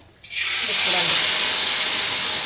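Maida batter drops into hot oil and bursts into a loud, sustained hissing sizzle that starts abruptly and holds steady and close.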